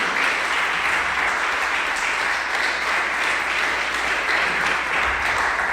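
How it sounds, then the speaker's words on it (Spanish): Loud, dense applause fills a church congregation, sustained and even throughout with no speech over it. "Dale ese fuerte aplauso al Señor Jesús."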